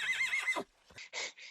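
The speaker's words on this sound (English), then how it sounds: "Is that a horse neighing?" A horse gives a loud, close whinny with a wavering pitch that falls away, followed by two or three short, breathy snorts or neigh fragments.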